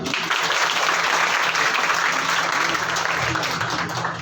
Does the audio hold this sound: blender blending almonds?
no